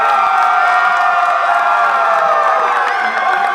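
A packed home crowd at a boys' high school basketball game roars and cheers loudly without pause, shouts and whoops rising over a dense wall of noise.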